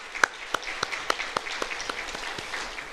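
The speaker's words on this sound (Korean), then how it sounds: "우리 주님께 영광의 박수 올려드리겠습니다" A church congregation claps together during a Friday sermon service, a series of sharp, evenly spaced hand claps over a soft bed of scattered clapping, fairly close and with no talking.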